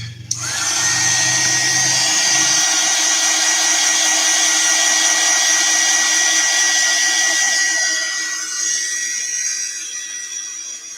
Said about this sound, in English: Hit that with the heat gun to dry it a bit.